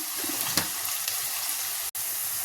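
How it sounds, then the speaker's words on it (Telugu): Onion pieces fry with a little salt in a pan, giving a soft, continuous, even sizzling hiss with one faint tap near the start. "ఉల్లిపాయ ముక్కలు ఎర్రగా వేగాలి. కొంచెం ఉప్పు వేసుకుంటే తొందరగా వేగుతాయి ఉల్లిపాయలు."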